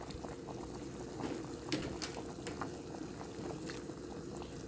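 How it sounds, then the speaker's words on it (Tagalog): Tom yum soup with a salmon head, galangal and lemongrass boiling in a pot, a steady close bubbling with scattered small pops and splashes over an even low roil, no voices. "At pakuluan pa natin ng 2 minutes."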